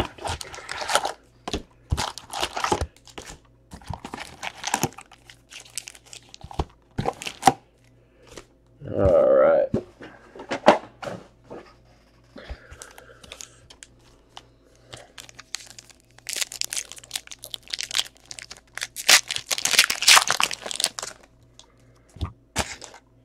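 Donruss football trading card packs sliced open and handled at close range: crisp crinkling, tearing and rustling of foil wrappers in uneven bursts, one louder rip in the middle, with a voice briefly heard.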